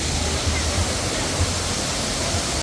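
A waterfall in Lombok, Indonesia, roars as a steady, loud wash of broadband rushing water, constant and unbroken throughout with no gaps.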